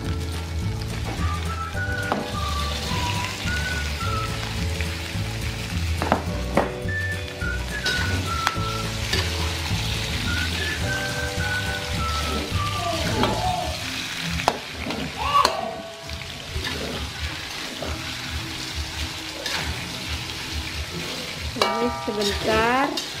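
Beef liver stir-frying in a pan for soy-sauce liver, a steady sizzle with stirring scrapes throughout, overlaid by prominent tonal music or whistling that runs across the sizzle.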